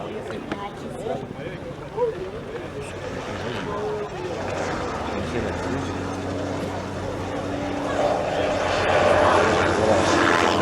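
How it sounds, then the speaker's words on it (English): An OH-58C observation helicopter drones steadily at a distance and grows gradually louder as it approaches during a military demonstration at Fort Sill, with people talking over the engine noise. "Please direct your attention to the right front while an OH-58C observation helicopter moves"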